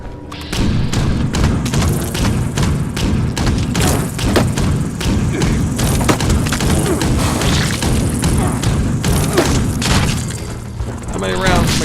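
Sustained, dense heavy gunfire from a Gatling gun in Fallout 76, aimed at a giant insect, rolls on for nearly the whole stretch as a loud continuous barrage of thuds and booms, with a voice talking over it.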